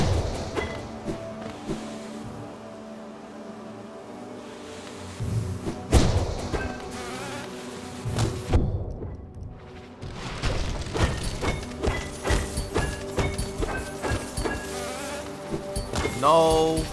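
Droning insect buzzing from bees in the video game Hollow Knight, with game thumps and impacts layered over it, breaking off briefly midway before resuming with sharper hits.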